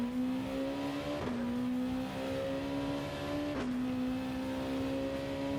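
Race car engine in Gran Turismo 7 pulling hard out of the Suzuka hairpin, a loud steady droning tone that climbs in pitch and drops sharply at two gear shifts.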